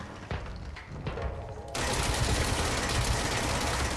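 Gunfire in the video game Control: scattered shots and thuds at first, then a sustained, loud, dense roar of rapid fire filling the second half.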